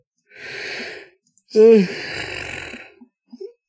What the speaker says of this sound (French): j'ai bâillé